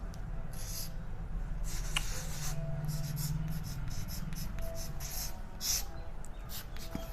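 Chalk or pen scratches across a board as a teacher writes notes during a lesson, a soft, intermittent scraping over a steady room hum with no speech over it.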